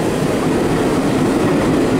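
Steady rumble of an R38 New York subway car running at speed, with continuous rolling wheel and track noise and faint clickety-clack, loud and close from inside the car, no talk.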